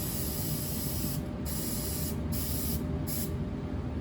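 Aerosol glue sprayed onto a model tree branch for a slot car or train layout, a loud continuous hiss in three bursts with short breaks between, close to the microphone.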